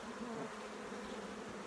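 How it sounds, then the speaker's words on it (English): Honeybees buzz in a dense, steady drone around a brood frame as it is brushed off while two small hives are combined; the sound is close, continuous and free of talk. "So just kind of brushing the bees, last few off this frame."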